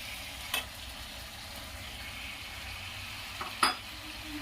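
Paneer fries in a pan over a high flame, a steady close sizzle and hiss throughout, broken by two sharp clinks of a utensil against the pan.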